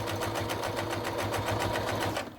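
A sewing machine stitches steadily through four layers of fabric on an armchair caddy, a loud, even mechanical chatter with a rapid regular rhythm running throughout and no talk.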